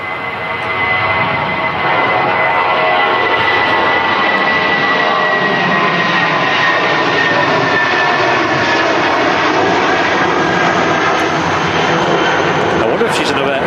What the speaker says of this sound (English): British Airways getting off quick.